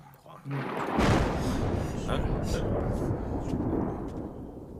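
Deep rolling thunder breaks out abruptly and rumbles loud and sustained for several seconds, heavy and close, with a faint hiss of rain beneath it and no talk over it.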